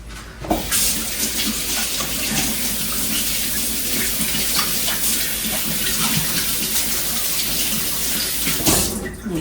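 Tap water runs steadily into a sink while sticky hands are rinsed during lamb meatball preparation, a close, even splashing flow that starts abruptly and stops just as sharply.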